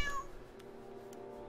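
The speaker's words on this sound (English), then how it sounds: "There's a cat." A cat in a video game gives a single short meow at the start, followed by quiet game ambience with a couple of faint clicks.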